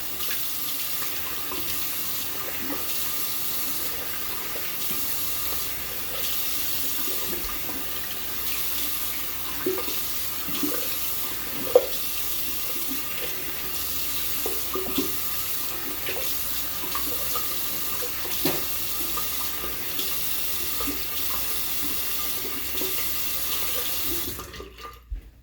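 Water runs steadily from a bathroom sink tap while someone washes their face after a shave, a continuous close hiss with small splashes and clinks, cutting off abruptly at the end.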